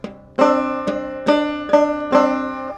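Banjo strings struck clawhammer style with the back of the middle fingernail, five bright plucked-and-strummed notes in an even, bouncy rhythm, ringing close and clear with no voices.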